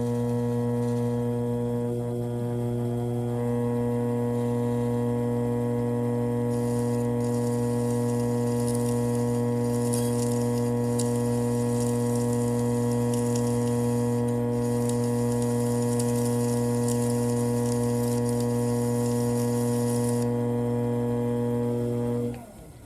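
A polishing lathe spinning a Rolex Submariner 16610 case back while an emery stick works it, a steady loud motor hum with harmonic drone and a brighter hiss of abrasion across the middle, winding down at the end.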